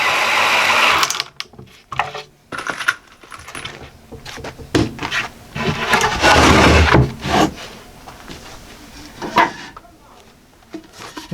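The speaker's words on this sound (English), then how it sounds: "Now I can fasten screws all along, keeping the bottom even" A drill drives screws into wood while a DIY work and storage center is built, giving several whirring bursts broken by clicks and handling clatter at close range.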